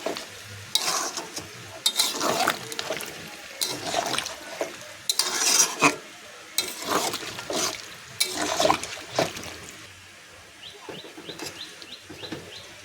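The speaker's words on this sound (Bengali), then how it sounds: "জলটা দিয়ে একটু নাড়াচাড়া করে নেব।" A pumpkin, potato and drumstick curry is stirred in a pan after water goes in, giving wet, sloshing scrapes in uneven bursts over a low simmering bubble, then fading to quieter bubbling with faint birdsong.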